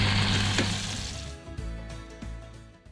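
Chopped onions going into a hot pan of oil and nehari spices, an initial loud sizzle with a clatter, then fading frying and a few light knocks from stirring.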